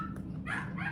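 Dogs barking behind a closed door indoors, a couple of quick muffled barks and a yip within a single second, moderately faint and somewhat distant.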